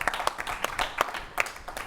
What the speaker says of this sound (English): I think we can already applaud that.